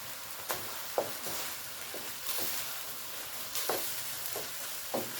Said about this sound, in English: we're just going to let that simmer a little bit